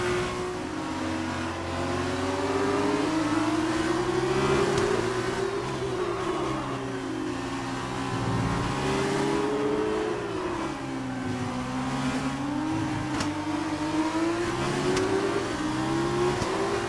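F2 race car engines drone through the final lap in the F1 2019 video game, a loud continuous whine rising and falling with gear shifts and throttle changes, with no voices.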